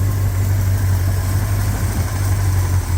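Cold car engine idling just after starting, a loud steady low rumble with a constant hum and slight vibration throughout, no talking.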